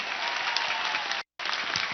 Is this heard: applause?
yes